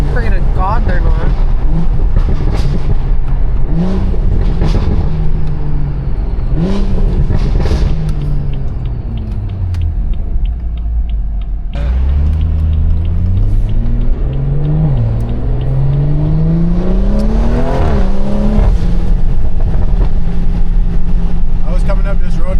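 BMW 340i with Stage 2 tune driving on a road, its engine loud and close with repeated rises and falls in revs as it accelerates and shifts, under occasional talk.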